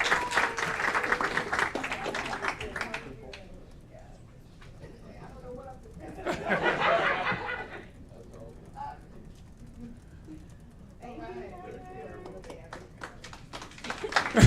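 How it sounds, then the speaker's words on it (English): An audience claps at an Aurora city council meeting, a few seconds of scattered applause that swells midway and then fades. Speech comes before and after it, and a bird's cooing is also audible. "Give a round of applause"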